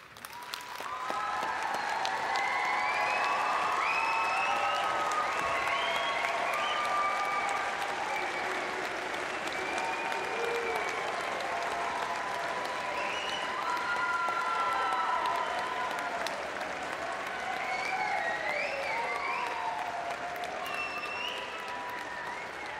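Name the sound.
audience applause for graduating alumni class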